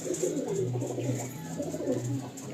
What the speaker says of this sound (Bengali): পায়রাগুলো কত অ্যাক্টিভ দেখুন, পিওর আন্ধ্রা